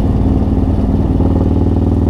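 A Harley-Davidson Road Glide engine running during break-in, a loud, close, steady low throbbing rumble with an even pulsing beat and no voices over it.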